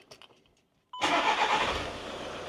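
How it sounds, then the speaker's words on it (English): A van's engine starts after a quiet moment with faint clicks, catching abruptly and settling into a steady, fairly loud idle. "Next, turn your engine on."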